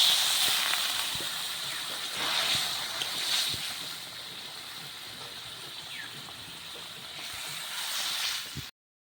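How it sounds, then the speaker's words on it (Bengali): Water poured into a simmering pot of thin rohu fish curry with ridge gourd and potatoes in a village kitchen, a steady rushing hiss that runs for several seconds with slight swells, then cuts off. "এখন আমি দিয়ে দিব জল"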